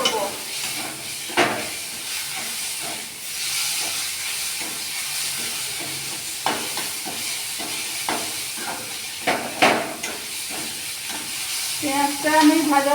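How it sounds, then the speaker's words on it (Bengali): A grated onion and ginger paste sizzles steadily in oil, with repeated sharp scrapes of a stirring spoon against the pan and brief murmurs of speech over it. "পেঁয়াজটা আমি ভাজা ভাজা করে নিচ্ছি।"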